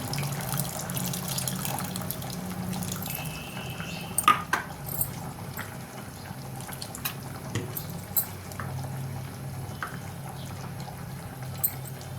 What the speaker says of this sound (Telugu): బెండకాయ ఉడికింది ఇప్పుడు దీంట్లో చింతపండు చింతపండు పులుసు వేసుకుంటున్నాను